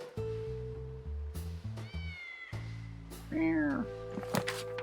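Cartoonish cat meows from the video game Fort Meow, several short rising and falling calls over a looping musical tune, fairly close and clear.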